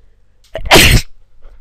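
A single sharp, loud sneeze bursts out close to the microphone after a brief inhaled buildup, followed by quiet room noise.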